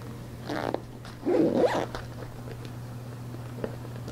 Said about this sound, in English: I have to turn this around to zip it up so I can see what I'm doing.